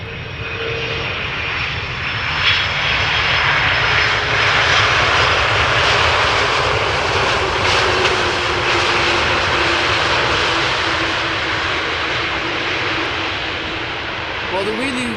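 A large airliner lands at Amsterdam Schiphol Airport, its engines producing a loud, continuous roar that swells and holds for the whole stretch, with faint voices underneath.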